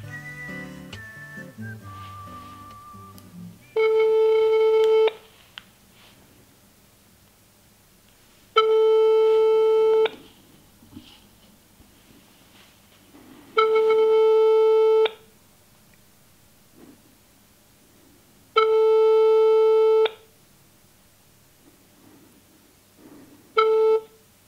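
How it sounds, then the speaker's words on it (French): A mobile phone call rings out unanswered, its ringback tone sounding as four evenly spaced long beeps with a short fifth at the end, clear and alone over a quiet background. "Voilà, j'appelle Léo."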